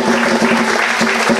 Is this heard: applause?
yes